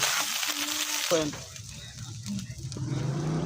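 A bele fish head fries in a pan with coriander leaves, making a soft, close sizzle broken by brief stirring movements. A voice is briefly audible.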